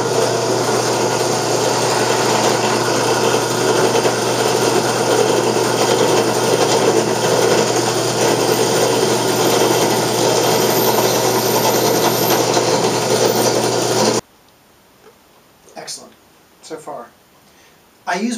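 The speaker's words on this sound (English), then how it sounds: "Now I'm putting an 1/8 inch hole in the other one." A drill bores a 1/8 inch hole in soft brass with a loud, steady high-pitched whine that runs unbroken for about fourteen seconds and then stops, followed by a few short handling knocks.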